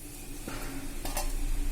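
Ragi sweet kuzhi paniyaram cooks in a covered pan, giving a steady soft sizzle with a few light scraping or clinking touches, fairly quiet and without voices.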